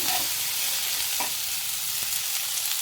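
Bitter gourd fries in a pan with oil in a steady, dense sizzle, occasionally stirred, close and loud, with no one talking.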